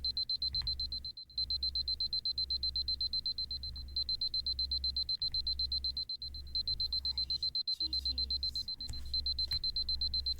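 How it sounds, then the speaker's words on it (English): An alarm clock rings in the video game Tsui no Sora Remake: a steady, piercing high-pitched electronic tone repeats in pulses with brief gaps, loud and close over a low background hum throughout. "looks like the alarm clock's gone"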